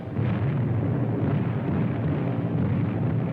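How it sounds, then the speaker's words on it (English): Bombs explode in a 1940s wartime film air raid on Chongqing, a loud sustained low rumble of blasts and debris rolling continuously without pause. "they're bombing Chongqing."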